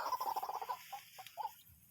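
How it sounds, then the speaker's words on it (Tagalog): Birds cluck and chatter in a rapid burst followed by a few scattered calls, fairly faint against a quiet background. "dami pang ibon"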